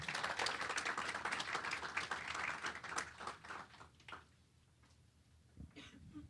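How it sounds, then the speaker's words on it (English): An audience at a Latino census briefing applauds Secretary of State Alex Padilla. A brisk burst of clapping lasts about four seconds, then thins out to a few scattered claps in a quiet room. "Please help me give a round of applause to our co-chair, Secretary of State Alex Padilla."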